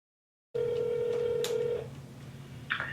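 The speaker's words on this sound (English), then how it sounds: "So let's get him on the phone." A phone dialing out on a cold call to a real estate contact: a steady tone holds for over a second, then fades into a low hum, and a short beep follows near the end, quiet and close.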